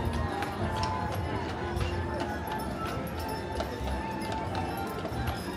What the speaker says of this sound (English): Greeted by a horse-drawn streetcar.